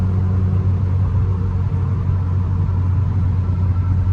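A 2008 Honda Civic Si with a swapped K24A2 engine cruises in sixth gear, its steady low engine drone and road rumble holding even and close throughout, with no talk.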